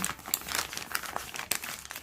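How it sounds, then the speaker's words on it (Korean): A plastic piping bag being pulled downward and crinkled while homemade whitening lotion is prepared, giving a continuous rustling, crackling texture with a few sharper crackles, close and moderately loud. "짤주머니 밑으로 쭉쭉 당겨줍니다."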